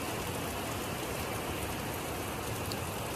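Heavy rain pouring outside, a dense, even hiss of drops that holds steady and loud throughout with no voices.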